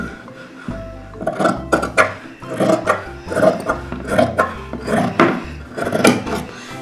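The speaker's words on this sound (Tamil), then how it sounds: "ஹேண்டு இங்கேருந்து போய் இப்படி க்ராஸாக இதை கட் பண்ணிக்குவோம்" Scissors cut fabric for a split half sleeve with piping, making repeated close, rasping snips and rustles in an uneven rhythm, several strokes in a row without speech.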